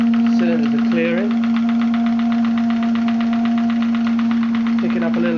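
Maxitrak Graupner 5000 model steam engine running with its cylinders clearing, a fast, even chuffing beat over a strong steady hum, with brief squeaky whistling tones near the start and end.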